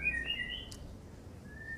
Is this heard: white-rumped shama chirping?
yes